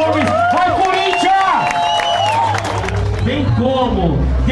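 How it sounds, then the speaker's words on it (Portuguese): Loud crowd at a vertical skateboarding competition in Brazil clapping and cheering for a skater, a dense, steady wash of applause and shouts close by, with a voice talking over it. "Grande salva de palmas, Rony Gomes!"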